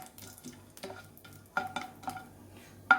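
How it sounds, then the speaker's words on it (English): Whole spices are stirred in about two tablespoons of hot oil, giving a soft low sizzle broken by several sharp scrapes and clinks of a spoon against the pan, close and otherwise quiet. "Just give it a stir."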